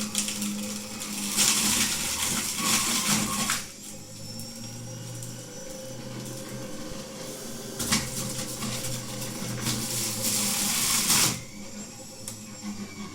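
A Homend 2705 juicer runs at speed setting one with a steady motor drone and recurring harsh grinding bursts, nearby and unaccompanied by speech.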